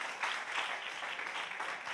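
A church congregation claps hands during a sermon, a dense steady patter of many clapping hands at moderate level lasting throughout, with no talk over it.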